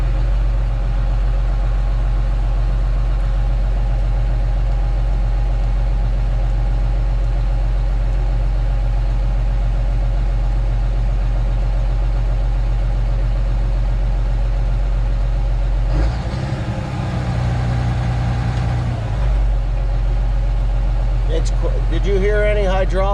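A John Deere 8530 tractor's engine idles steadily and loudly up close after start-up, with a brief louder surge partway through and people talking nearby.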